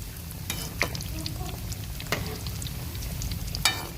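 Bread chicken patties fry in a hot pan with a steady crackling sizzle, punctuated by a few sharper pops and spatula clicks, close and moderately loud, with no talking.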